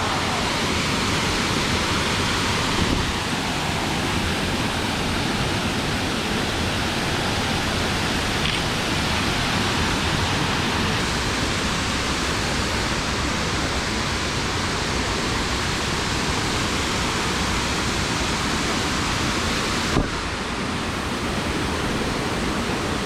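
Baho waterfall near Nha Trang, Vietnam, roars as a steady, full broadband rush of falling mountain water, loud and close, unchanging for the whole stretch with no talking.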